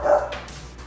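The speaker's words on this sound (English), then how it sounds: "So if y'all hear him barking, that's what he's barking at." A single short dog bark, fairly close and loud, followed by quiet background.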